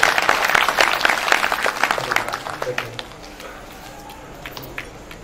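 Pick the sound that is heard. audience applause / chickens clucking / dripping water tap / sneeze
audience applause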